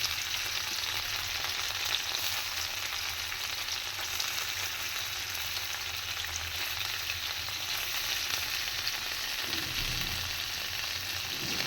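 Paneer fries in a pan with a steady, close sizzle and light stirring scrapes that run continuously. No one speaks, and a brief low clunk sounds near the end.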